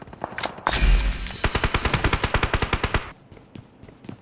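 Rapid automatic gunfire in the mobile battle game PUBG Mobile, a loud burst of about twenty evenly spaced shots lasting under two seconds, preceded by a heavy blast and followed by a few faint distant pops.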